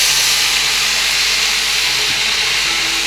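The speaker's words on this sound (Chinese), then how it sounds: "在铁盘中加入100克开水， 用以制造蒸汽。" Boiling water poured into a hot metal tray in a 230-degree home oven hisses as steady steam for baking baguettes, a close, continuous broadband rush with no talk.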